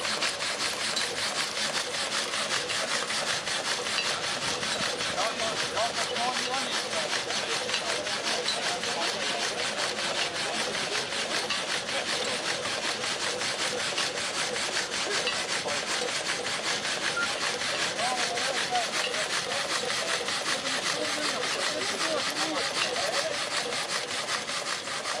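A restored vintage diesel-powered saw cuts through wood with a continuous, even rasping roar that stays loud and steady from start to finish, with no pauses or voices.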